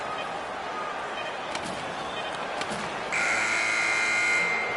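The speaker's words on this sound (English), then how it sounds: "And the buzzer sounds." An end-of-game buzzer at a hockey match sounds as a loud steady electronic drone in the final seconds, following arena noise and a couple of sharp stick or puck knocks.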